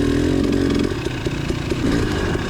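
Motorcycle powering up a steep hill climb on a high school race course in third gear, engine roaring loud and close with a steady drone that wavers as throttle is held, no talking.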